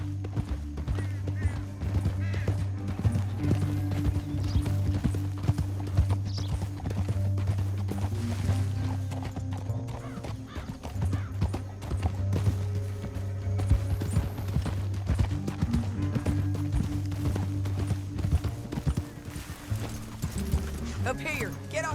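Horses' hooves clopping at a steady gallop in Red Dead Redemption 2, running continuously under game music and ambient sound.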